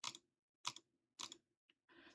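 Normal time clicking on a computer mouse, one butterfly click per hit: sharp, close plastic clicks sound at a steady, evenly spaced rhythm with silent gaps between them, ending in a softer click.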